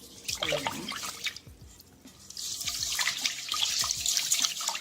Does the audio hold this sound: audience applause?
no